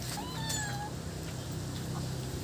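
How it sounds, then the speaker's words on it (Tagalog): Cat meowing, one short rising meow near the start above a low steady background hum. "Pusa yan ah."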